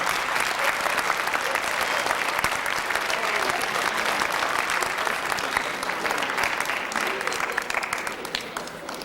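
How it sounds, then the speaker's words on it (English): Sustained applause from an audience welcoming a councilman at a high school assembly, a dense, steady clatter of many hands that fills the whole stretch and tapers slightly toward the end. "let's receive with a big hand round of applause Mariano Vega, Councilman Mariano Vega."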